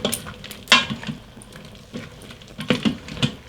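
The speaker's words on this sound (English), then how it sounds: "Give that a good stir" A spoon stirs crushed garlic in a pot of savory beef tips in wine, with scattered clinks and scraping knocks against the pot and soft light sizzling between them.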